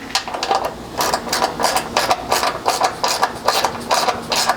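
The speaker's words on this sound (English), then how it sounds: "you can grab a 13mm socket, and we're just going to tighten these up so it kind of holds the leg pretty much square to the frame" A 13mm socket on a hand ratchet tightens slider bolts on a 5th-gen Toyota 4Runner frame, giving close, loud, evenly repeated clicking strokes in a steady rhythm throughout.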